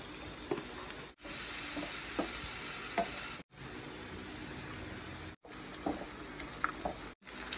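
Onion and garlic sautéing for shrimp fried rice: a steady, close sizzle of frying with light stirring scrapes, broken by a few brief silent gaps.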